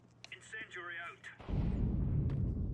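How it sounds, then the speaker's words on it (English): An incendiary grenade in Counter-Strike 2 bursts into a loud, steady roaring rush of flame partway through, after a short stretch of voice and game chatter. "Incendiary out."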